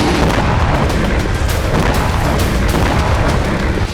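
Explosions from a Russian missile strike on Kyiv make a dense, loud, continuous rumble of booms that fills the whole stretch without pause.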